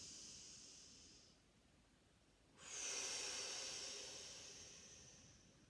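A slow, deep inhale through the nose during a yoga breathing exercise, heard up close as a long airy hiss that swells and gradually fades after a quieter breath.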